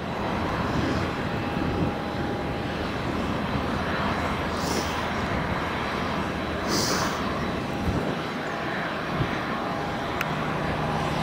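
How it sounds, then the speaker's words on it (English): A small private jet at Tenerife South Airport roars steadily, loud and continuous, with a broad rumbling engine wash that holds across the whole stretch and has no voices over it. "a little private jet"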